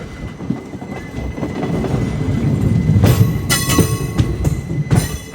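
A passenger train running on track near a junction, heard from aboard: a loud continuous rumble with rhythmic clickety-clack and sharp metallic squeals and clanks toward the end.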